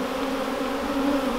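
Honey bees buzz around an opened hive, a steady close drone with a constant hum that holds without pause and has no voices over it.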